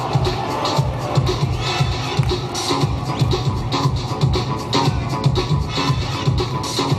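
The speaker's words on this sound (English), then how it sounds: "Yo, crowd, make some noise." A crowd at a breakdance battle roars and cheers steadily throughout, dense and loud, with a driving beat pulsing underneath and no clear talking.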